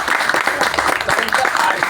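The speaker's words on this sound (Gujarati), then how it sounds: "આ બેન માટે જોરદાર તાળી." Lively applause from the audience at a weekly RCM business meeting in Nikol, a loud, dense burst of clapping from many hands, with some voices mixed in.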